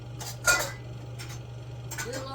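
A ladle grabbed from among kitchen utensils while making eggnog, giving a sharp metallic clatter of clinking utensils, a second softer rattle and a third near the end, close and moderately loud over a steady low hum.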